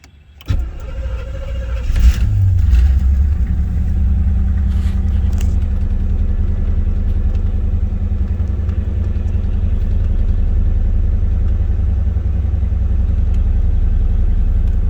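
A car engine cranks briefly and catches, then revs once before settling into a loud, steady, rumbling idle close by that runs for the rest of the time; no one speaks.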